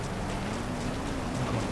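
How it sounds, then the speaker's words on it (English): Steady rain falling in the GTA 5 video game, a dense, even hiss with soft patter that holds at constant loudness throughout, with no voices. "Oh, wow, that's a long rain."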